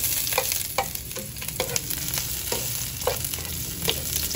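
Garlic fries in a pan for Mishua chicken soup, a close, steady sizzle broken by repeated scraping stirs, with no talking.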